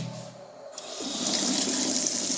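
Hot water from a boiler-fed tap gushes on after a brief quiet moment and then runs in a steady, close splash and hiss until the end, with no speech.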